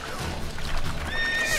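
Roach the horse from the Witcher 3 video game gives a close, clear neigh and whinny, with hoof clip-clops and some game ambience underneath.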